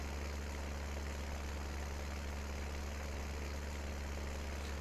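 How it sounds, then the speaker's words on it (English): An underpowered tractor in Farming Simulator 19 drones steadily while pulling a cultivator, giving a faint, constant low engine hum with no change in pitch and no talking. "I'm doing a cultivating job with an underpowered tractor"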